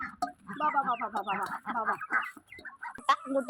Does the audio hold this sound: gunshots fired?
no